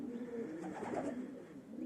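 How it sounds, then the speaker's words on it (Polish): Domestic red pigeons from a fancier's show-bred family coo softly and repeatedly nearby, a low rolling murmur with no voices. "między innymi te gołębie, te rude"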